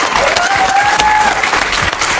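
Loud, steady applause from a television studio audience on a talk show, continuous and close, with a faint whistle rising above the clapping.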